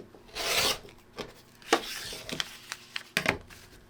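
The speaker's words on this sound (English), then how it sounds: "You're going to trim on this solid line all the way" A rotary cutter slices along the line to trim a paper-pieced quilt block, making several short, close rasping scrapes and rubs with brief pauses between strokes.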